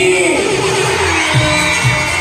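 Crowd at an Our Lady of Fatima event shouting while waving on request, a loud sustained mass of yelling voices with whoops rising and falling, a few louder bursts near the end.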